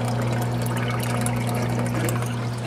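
Water trickling and dripping down into a Bulk Reef Supply phosphate reactor on a reef aquarium, a steady close-up liquid splashing over a constant low pump hum.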